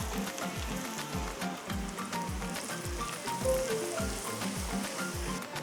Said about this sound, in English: So wait till the oil is done sizzling